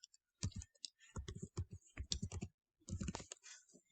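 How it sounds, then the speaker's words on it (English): Computer keyboard keys tapped in quick bursts while typing an email address, crisp close clicks in several clusters with short pauses between them. "I'm just going to type in my email address"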